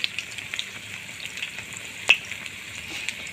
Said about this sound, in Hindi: ये 10 मिर्चें मैंने फ्राई की हैं और ये 10 जब हो जाएंगी तो फिर मैं आपको दिखाऊंगी